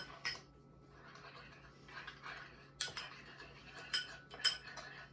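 Spice rub being mixed in a metal bowl for smoked prime rib, with a few sharp clinks and scrapes of utensils against the bowl over a quiet kitchen background.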